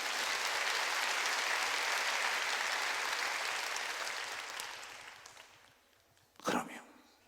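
A church congregation claps together during a Wednesday worship service. The dense applause stays steady for several seconds, then thins and fades, and a short burst of sound follows near the end.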